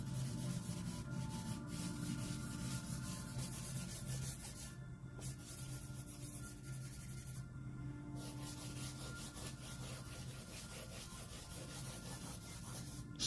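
Soft charcoal rubs and scrapes across paper while drawing sand in concept art, a steady close, dry scratchy texture running throughout with a few brief pauses.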